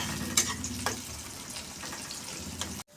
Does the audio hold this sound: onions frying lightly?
yes